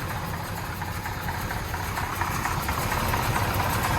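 A 1969 Dodge Charger R/T with no choke idles after a cold start, a rough, steady low rumble nearby that swells slightly louder toward the end.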